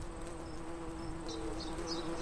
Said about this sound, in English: Imagine a bee flying around in its natural habitat and buzzing from flower to flower.